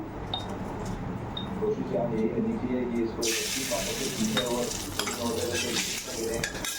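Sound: hot oil with salt sizzling in a wok

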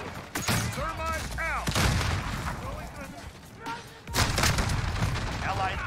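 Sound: gunfire in a video game

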